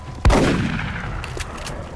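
A single sniper rifle shot in the video game XCOM: Enemy Within, a sharp loud crack with a booming tail that rings out and decays over the following second or so.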